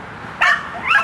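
A dog barks twice close by, a sharp loud bark midway followed by a second shorter bark near the end, outdoors by a driveway near a road.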